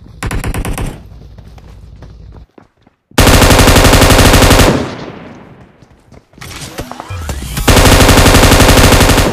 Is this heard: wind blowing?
no